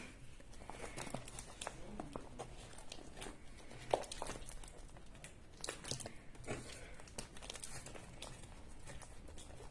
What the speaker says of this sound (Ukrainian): І складаємо наші пакетики, які ми не будемо використовувати.